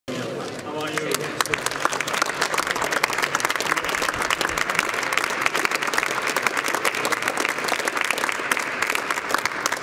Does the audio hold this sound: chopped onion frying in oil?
no